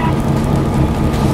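Heavy rain pours steadily and loudly, a dense continuous hiss with no pauses, close to the listener.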